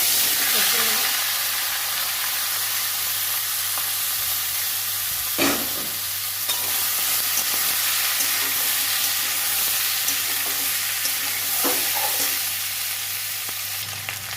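Prawn-and-potato cooking in mustard oil sizzles in a pan as a steady broadband frying hiss fills the clip, with occasional stirring clatters; it stays loud and continuous throughout, and a voice speaks briefly.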